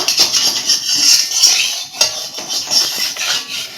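Fried pieces made from flour and rice are lifted from a karahi, giving a run of close, loud metallic scrapes and clinks in an irregular rhythm.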